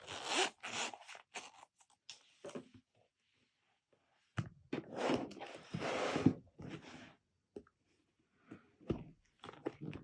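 A Lorton & Horn leather notebook zip cover gives several close zipper pulls in short bursts, with quiet pauses between them.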